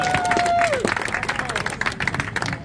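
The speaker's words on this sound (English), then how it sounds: "One more round of applause for Councilmember Rebecca Kaplan" An outdoor crowd at a Bruce Lee Way street sign unveiling ceremony in Oakland claps for a councilmember, a short burst of scattered applause with cheering and murmured voices around it.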